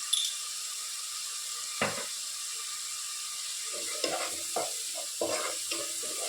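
Fish frying in a pan with turmeric and salt, a steady broadband sizzle with several scraping stirs and clatters of a utensil against the pan, no voices.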